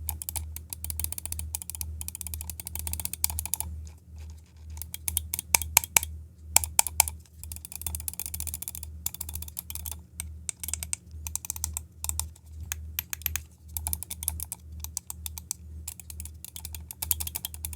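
A long run of quick, crisp gaming mouse button clicks, close and steady, in irregular bursts with a low hum underneath; no talking.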